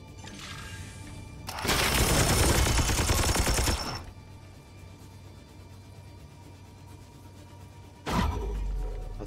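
Two bursts of rapid gunfire in the video game Warhammer 40,000: Chaos Gate – Daemonhunters, a long roaring volley followed later by a shorter one, loud and close, over a low background hum.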